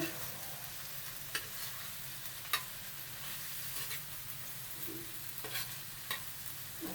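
Fried okra and 600 grams of minced meat being mixed gently in a pan for Pakistani bhindi qeema, with a soft steady sizzle and a few sharp scrapes of a spoon against the pan.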